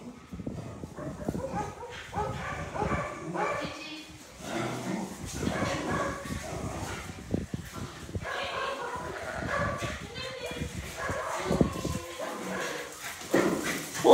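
Several dogs bark, yip and whimper while playing in a large new room at a dog shelter, with scuffling and clattering paws through a busy, fairly loud scene; a person's voice is heard alongside.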